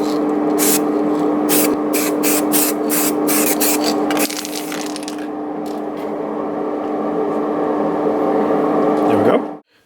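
A spray can paints the repaired bumper area of a Citroen BX, first in several short hissing bursts, then in one longer continuous spray, close up with a steady background hum.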